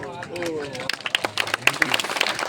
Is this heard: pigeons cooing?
no